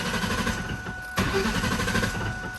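A Ford Mustang Cobra fitted with a Kenne Bell supercharger cranks over without catching after sitting for days, a steady whirring starter churn that shifts partway through, close and loud.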